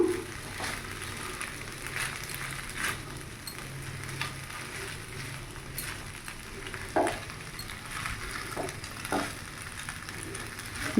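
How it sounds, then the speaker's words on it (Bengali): Chicken pasta in sauce is stirred in a pan, giving a steady soft sizzle with light scraping and occasional clicks of the utensil against the pan at moderate volume. "ভালো করে এইভাবে মিশিয়ে নিচ্ছি সস দিয়ে।"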